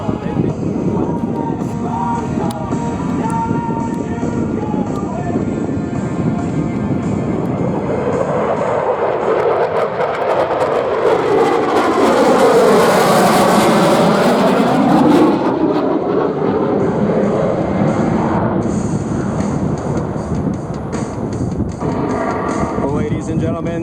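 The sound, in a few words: F18 fighter jet flying low at Sun N Fun air show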